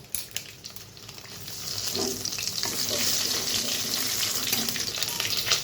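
Bay leaf and whole spices sizzle and crackle steadily in hot oil for a moong dal tempering, the frying growing louder and denser after a few seconds, close and alone with no talk.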